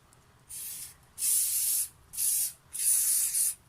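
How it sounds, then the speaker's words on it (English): Four hissing bursts of an aerosol protective spray onto a suede shoe, each about half a second to a second long, separated by brief pauses. "Basically what you do is just spray this all over the shoe"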